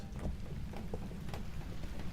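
Heavy rain in the Phasmophobia farmhouse map pours as a steady, dense hiss with a deep low rumble underneath, constant and fairly loud, with no voices.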